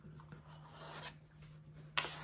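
A zipper for a quilted zipper pouch is handled and rubbed at the sewing table, giving soft rasping scrapes and one brief sharper zip near the end over a steady low hum.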